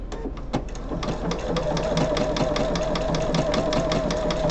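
A sewing machine runs steadily, stitching fabric pieces for a quilt block with an open-toed foot, its needle tapping in a fast even rhythm over a constant motor hum, close and alone.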